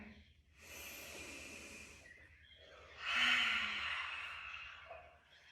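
A slow, deep inhale and exhale during a calm yoga session, soft airy breaths heard up close in two long drawn-out waves with quiet pauses between them.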